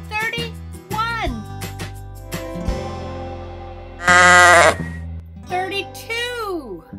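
Sheep bleating in a children's counting lesson, several wavering bleats spaced through the clip, one louder and harsher in the middle, with a voice heard briefly between them.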